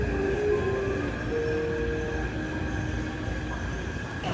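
A train ride in Taiwan: a steady, loud rolling rumble with a thin, faint whine above it, continuous throughout and with no voices.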